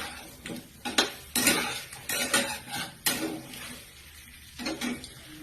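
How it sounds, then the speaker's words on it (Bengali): A spatula scrapes and knocks against a pan while parboiled potatoes are stirred and fried with spices for a vegetarian aloo dum, giving several sharp clattering strokes with brief pauses and a faint frying hiss underneath. "এটা আমি অল্প একটু সেদ্ধ করে রেখেছিলাম, যে আলুটা দিয়ে একটু ভালোভাবে কষছি"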